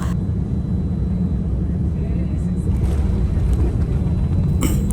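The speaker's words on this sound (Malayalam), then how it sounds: "ഫ്ലൈറ്റ് ലാൻഡ് ആയിരിക്കുകയാണ് കേട്ടോ" A heavy, constant rumble fills the cabin of an Etihad Airways plane as it lands, low and steady, with a faint thump and muffled voices in the background.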